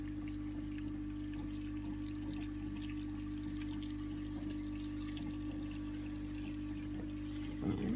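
Water pours steadily and continuously during a water change on a home aquarium tank, a constant low rushing flow heard alone, with a small splash or bump near the end.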